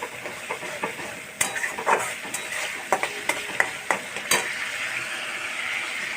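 Spices for country chicken sizzle steadily in hot oil in a Bengali home kitchen, with irregular scraping clicks from stirring a pan over the constant frying hiss.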